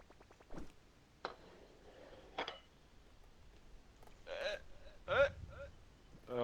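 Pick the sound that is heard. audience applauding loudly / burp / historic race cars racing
burp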